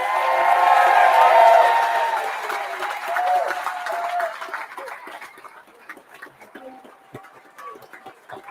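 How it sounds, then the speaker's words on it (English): Audience at a political party launch event in Newcastle applauding loudly at first, the clapping fading over several seconds into scattered claps and murmurs in a large hall. "Now you can clap."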